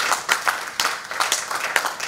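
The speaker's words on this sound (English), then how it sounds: "Round of applause for her." Applause at a corporate governance conference, scattered hand claps from a modest audience forming an uneven, moderately loud patter for a couple of seconds with no talking.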